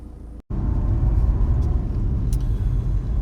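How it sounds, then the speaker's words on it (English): A car driving along a road near Swansea, heard from inside as a steady loud low rumble of engine and tyres, broken by a brief cut near the start before the drone continues. "Let's turn the car around, let's get back into position"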